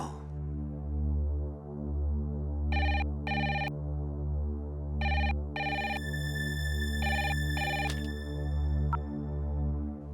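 A telephone rings out repeatedly while a call is placed, with short paired bursts of ringing, bright and fairly close, over a constant low background drone.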